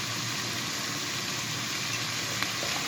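Peas sautéing in a pan while vegetables cook for a vegetable velouté, a steady soft sizzle and crackle of frying that continues without a break at a moderate, even level.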